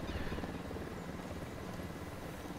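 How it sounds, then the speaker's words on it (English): A helicopter in the video game Ghost Recon Wildlands gives a steady, low rotor drone that holds at a moderate, even level throughout, with no voices over it. "I can't see the chopper"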